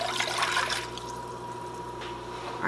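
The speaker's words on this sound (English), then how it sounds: "We're going to add our 3 cups water." Three cups of water poured into a cooking pot for an orange ginger maple syrup, a brief soft splashing pour that tapers off, faint and with no voices.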